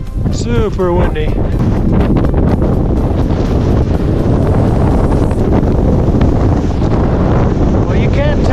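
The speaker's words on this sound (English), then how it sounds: "you can probably hear the wind is just whipping up through there" Strong wind whipping across a high mountain slope near 16,000 feet, roaring and buffeting loudly against the microphone throughout, with a voice briefly heard at the start.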